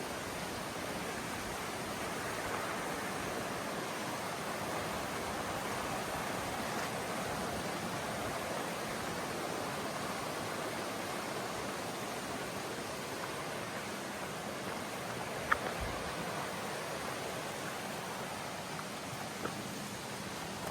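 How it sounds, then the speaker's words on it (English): Steady broadband rush of the Peabody River, a creek with small waterfalls beside a mountain trail, flowing close and continuous with no talking and only a couple of faint clicks. "The creek or Peabody River is still right next to me."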